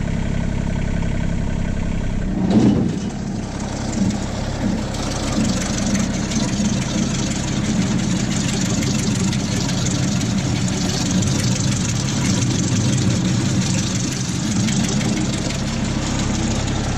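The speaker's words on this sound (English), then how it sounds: "I'm just at idling speed right now." A heavy tractor engine idles close by with a steady low chugging rumble, a brief clunk early on as the PTO is engaged for a brush hog, then a constant drone.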